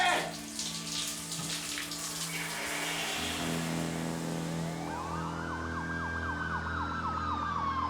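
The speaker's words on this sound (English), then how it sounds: "You could hear sirens all over the valley." Emergency sirens wail across a valley, one rising and falling in a steady cycle over a dense background hum, fairly distant and moderately loud.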